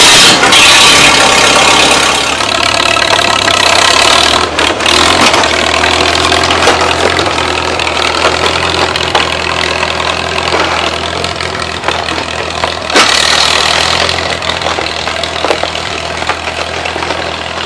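A Farmall H tractor engine with a little choke catching and settling into a loud, steady low idle close by, a brief surge partway through, with no talk.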